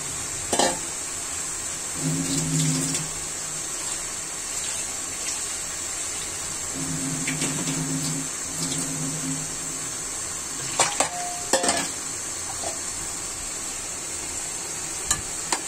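Boiled, blended jackfruit paste with ginger and garlic stirred into meat in a pan, soft sizzling and scraping of the spoon in a few short bursts, fairly quiet and close.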